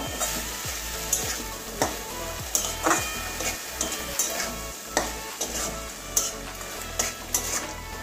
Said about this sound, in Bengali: মিশিয়ে দিচ্ছি, ভালো করে মিশিয়ে নেব।